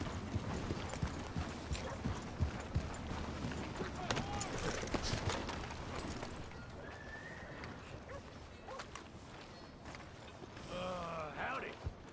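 Galloping horse hooves pound rapidly and steadily, loud at first and then easing, with creaking tack, a neigh near the end and some talk layered over them.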